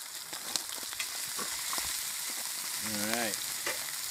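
Shrimp coated in garlic hot sauce sizzle in hot oil with a steady, bright crackling hiss throughout, while someone briefly speaks over it.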